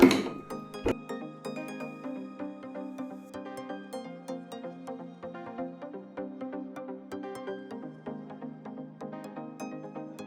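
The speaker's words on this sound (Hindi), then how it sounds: "इस जिप को हमने सीधा करके ऊपर वाली साइड पे सिलाई लगाते हैं।" Sewing machine stitching a zip onto a fabric cushion, a steady motor hum carrying a fast, even run of needle ticks at moderate volume, with no voices.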